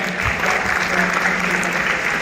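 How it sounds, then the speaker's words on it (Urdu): Sustained audience applause at a literary and cultural festival, a dense steady wash of clapping from a crowd, moderately loud and continuous with no break. "راحت صاحبہ کے لیے بہت ساری تالیاں"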